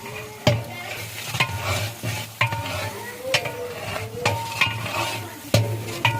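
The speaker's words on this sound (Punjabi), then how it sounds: "ਇਹ ਮਸਾਲਾ ਕੀ ਤੜਕਾ ਲੱਗ ਰਿਹਾ ਜੀ" Spices sizzle in hot oil as a tadka for a pea (matar) dish, with a steady frying hiss broken by regular sharp scrapes of a spoon stirring the pan, close and fairly loud, with no talking.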